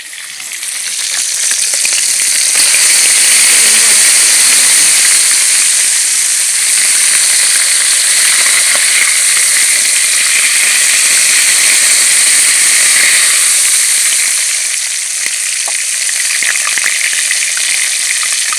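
Fish fingers frying in hot oil over an outdoor fire at a Jamaican cooking spot, giving a loud, steady, dense sizzle and crackle that holds evenly throughout with no talking.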